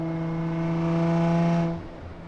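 A 600-wheel-horsepower 2009 Nissan GT-R R35 with a full turbo-back exhaust drones steadily under throttle in sixth gear, a smooth sustained hum heard from inside the cabin that drops off abruptly near the end.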